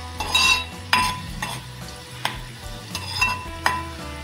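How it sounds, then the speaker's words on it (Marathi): Garlic sautéing in oil until golden for a Maharashtrian fish curry, close frying crackle with repeated spatula scrapes and metallic clinks against the pan, uneven and busy, with no talking. "लसूण आपल्याला हा थोडासा गोल्डन होईपर्यंत परतून घ्यायचा आहे."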